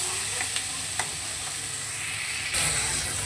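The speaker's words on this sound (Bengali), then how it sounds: "তো এবার ভালো করে একটু নেড়ে চেড়ে নেবো।" Pumpkin and potato curry being stirred in a hot pan, a continuous sizzle of frying with a few sharp scrapes of the spoon against the pan and a louder burst of hissing near the end.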